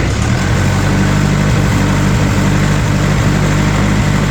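A Farmall Cub tractor engine, recently converted to a 12-volt system, idles steadily with a loud, even low rumble and regular pulsing throughout, no voices over it.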